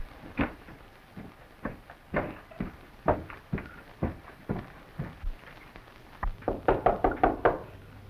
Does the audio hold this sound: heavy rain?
no